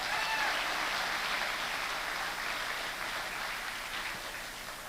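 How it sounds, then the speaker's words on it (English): Applause at a winter carnival pageant in Newport for sponsor Bar Harbor Bank and Trust blurs into a dense, hissing wash that fades slightly toward the end, sounding distant and evenly sustained. "Please give them a round of applause."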